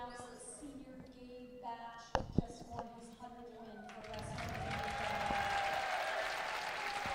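Crowd applause rises and holds steady at a high school wrestling meet as a wrestler's 100th match win is announced, preceded by an announcer's voice and a couple of sharp knocks.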